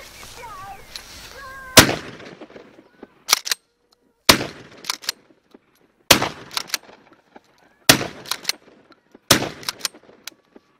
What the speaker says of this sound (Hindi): ये 5 राउंड हमने फायर किए